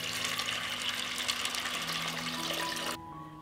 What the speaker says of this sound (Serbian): Očišćeni i opran pasulj stavljam u šerpu i preliću sa hladnom vodom.